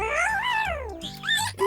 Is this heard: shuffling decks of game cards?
no